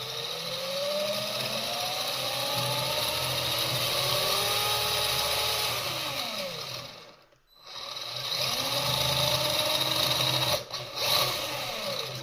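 A small 1/20-scale HPI Maverick RC desert truck motor runs flat out with a steady high whine. It cuts out briefly, revs back up and holds, heard close and loud with no voices.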